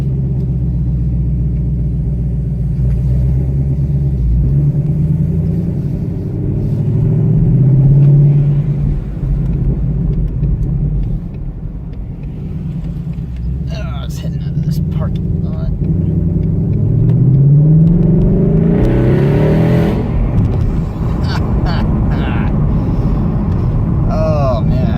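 A Dodge Viper V8 cruises along, its deep engine rumble rising and falling as it accelerates and eases off, heard from inside the car at close range with no talking.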